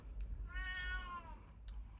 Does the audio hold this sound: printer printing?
no